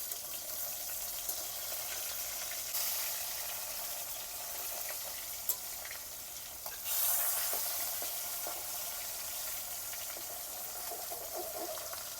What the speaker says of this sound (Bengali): মাছটি উলট পালট করে ভেজে নেব।